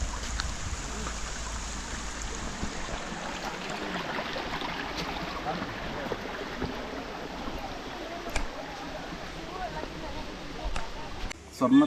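Stream water runs at the Golden Valley bathing ghat in Ponmudi, where the water is low, giving a steady trickling flow with people talking over it and a few brief knocks near the end.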